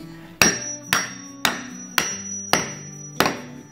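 A hammer strikes a metal bolt head six times at an even pace to mushroom it during metal stud framing, each blow a loud, ringing clang with a metallic tone that decays quickly.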